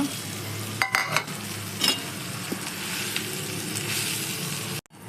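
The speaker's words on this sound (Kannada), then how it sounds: "ಈಗ ಇದೇ ಬಾಂಡ್ಲೆಗೆ ನಾವು ತಿರ್ಕೊಂಡಿರೋ ತುರಿನ ಹಾಕ್ಕೊಂಡು ಫ್ರೈ ಮಾಡಿಕೊಳ್ಳೋಣ" Grated pumpkin fries in a pan for halwa: continuous close sizzle with a few stirring scrapes and clinks near the start, ending in an abrupt cut.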